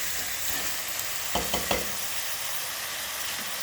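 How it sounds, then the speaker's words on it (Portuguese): Rice with pork loin fries in a hot pan under a constant close sizzle, while a few short scraping stirs push the food around about halfway through. "Vamos dar uma leve misturadinha."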